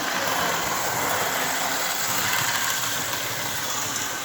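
Casey Jones model locomotive motor running steadily on a stock DC setup near 80% throttle, giving a continuous even hum and whine at close range with no pauses and no talk.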